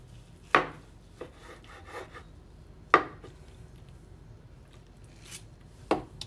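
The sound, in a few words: knife slicing herb crusted rump roast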